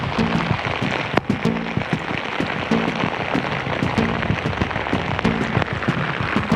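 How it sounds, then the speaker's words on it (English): Steady rain patters densely on a tent at a riverside wilderness camp beside the Missouri River, a constant close hiss with sharp individual drops ticking through it, and no voices. "It's actually kind of a peaceful rain."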